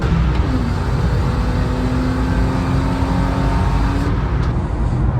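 Steady engine drone and tyre roar from inside a rental car cruising on an open public road toward a race circuit, loud and constant throughout with a faint rising tone and no talking.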